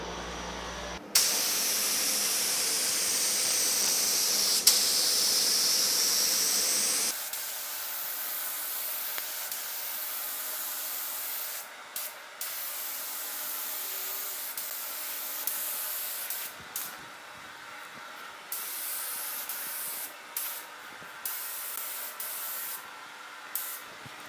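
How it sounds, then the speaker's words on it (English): A steady, loud spray-gun hiss runs in long passes while painting the hood of a 1950 Chevy truck, broken by short pauses and bursts as the spraying starts and stops, with no voices. "I'm looking, making sure I'm getting it nice and wet, no dry spots."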